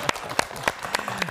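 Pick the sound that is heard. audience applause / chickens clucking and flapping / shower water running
audience applause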